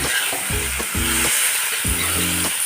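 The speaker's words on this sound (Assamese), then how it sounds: "সুদা মাংসটো তেলতে ভজা হৈছে দেই" Meat fries in hot oil over onions in a kadai, a loud, steady sizzle with repeated scraping stirs at a close distance and no talking.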